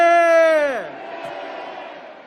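A single loud "manse" shout rises from a rally crowd in Myeongdong on Independence Movement Day, a sustained massed vocal cry that drops in pitch and gives way to scattered crowd noise.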